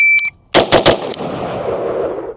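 Rapid handgun fire at an outdoor shooting range: a brief beep, then three sharp, loud gunshots in quick succession and a fourth shortly after, each followed by a ringing echo that fades across the range.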